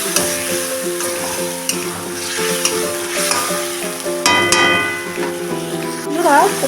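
Masala for a rohu fish curry sizzles loudly in a pan just after a small splash of water goes in, with stirring scrapes and clinks close by and bubbling throughout.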